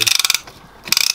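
A ratchet wrench tightening a piston ring compressor on an air-cooled VW Beetle engine during a rebuild, giving two quick bursts of close, crisp clicking separated by a short pause.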